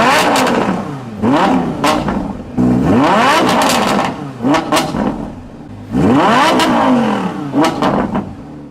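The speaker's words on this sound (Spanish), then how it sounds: "el sonido del escape, que es realmente espectacular tratándose de un V10" Audi R8 with a V10 engine revving hard several times, each rising exhaust howl followed by falling pitch and crackle, loud and close with brief quieter gaps between bursts.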